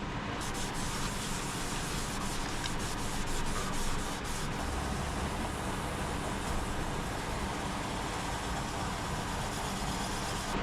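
Sanding paste is rubbed steadily over a wooden bowl, producing a constant, dense scratchy friction sound with no pauses or talking.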